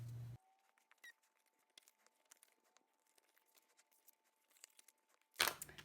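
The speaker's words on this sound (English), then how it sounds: "So the first thing I usually do is I fold along all my score lines and I burnish." Paper being folded along score lines and burnished: faint, sparse crinkles, soft scrapes and small taps in a quiet room, with louder handling rustle at the start and end.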